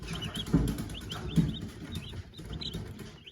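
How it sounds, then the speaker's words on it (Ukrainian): A rooster and hen squabble nearby, with bursts of wing flapping and agitated clucking, two louder flurries amid ongoing rustling. "Капець півень курку мучить."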